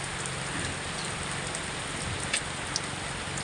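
Heavy typhoon rain from Typhoon Ramil pours steadily onto a hut beside a fishpond, a dense, even roar of drumming water with a couple of brief louder drips.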